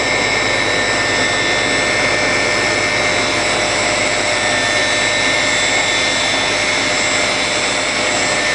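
A 200 horsepower electric motor drives a cooling tower pump at the USPS Brooklyn mail processing and distribution center, giving a loud, constant industrial drone with a steady high whine that holds without a break throughout.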